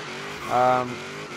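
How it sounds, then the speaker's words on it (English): A V8-swapped Nissan 350Z drag build revs hard toward redline in Forza Horizon 3, a short rising engine howl that swells for about half a second and then drops back to a low idle-like drone. "Taking the gears all the way up to red line now."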